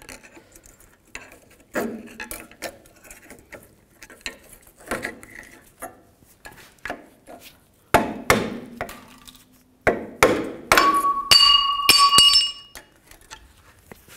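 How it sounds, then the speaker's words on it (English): Rear brake pads come out of a 2000-06 GMC Yukon caliper, pried with a flathead screwdriver: irregular metallic clinks, taps and scrapes close by, with sharper clanks bunching up toward the end and no talking. "Take the brake pads off, just use the same straight blade screwdriver."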